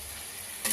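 Food frying in a pan with chili powder and salt being stirred, a steady soft sizzle with a brief louder scrape of stirring near the end.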